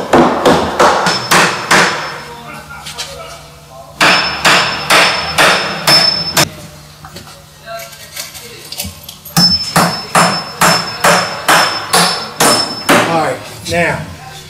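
Repeated hammer blows drive wedges into wooden shoring at a car wreck rescue by a fire and rescue crew, coming in three rapid bursts of sharp, loud strikes with brief pauses between them.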